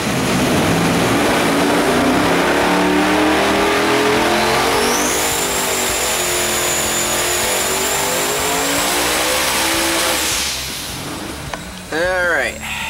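A 2,500+hp twin-turbo small-block Ford engine roars loudly through a sustained pull, its pitch climbing with a rising turbo whine, then cuts back as a voice begins talking at the end.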